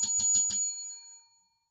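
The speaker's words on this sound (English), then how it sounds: "I ring the bell for you." A small bell, like a bicycle bell, rings four quick bright strikes close up, then a clear ringing tone fades out into silence.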